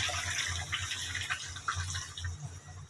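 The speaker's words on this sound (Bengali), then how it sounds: "একটু পরিমাণ মতো ঝোল দিয়ে দিব" Water pours into a pot of thick, simmered curry to make gravy, a soft, steady trickle with small splashes and drips, fairly quiet in a home kitchen.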